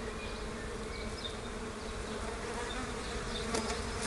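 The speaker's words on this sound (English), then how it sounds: "it looks like the bees are going to swarm" Swarming honeybees leaving a hive, a steady dense buzz of many wings filling the air at close range, continuous and even throughout with no voices.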